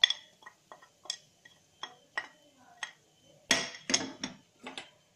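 Red chilli and coriander powder with a pinch of cumin roasting in a pan over a low flame, stirred with a spoon that clinks and scrapes against the metal in short irregular taps, louder clattering bursts toward the end.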